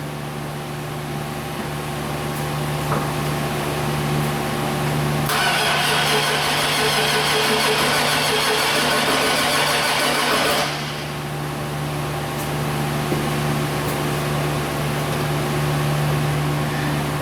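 A Chevy 2500HD pickup with a no-start, no-spark, no-fuel fault cranks loudly for about five seconds over a steady background hum, then stops and the hum carries on alone.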